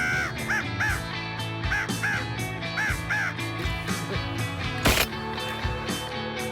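Repeated crow caws in short bursts of two or three during a winter crow hunt in Québec, fairly clear and carrying over an outdoor background, with one sharp bang near the end.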